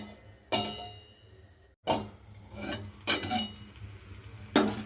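Metal clanks of a lid and utensils on a pot of cooking flour, four sharp clinks spaced about a second apart, close and distinct over a quiet background.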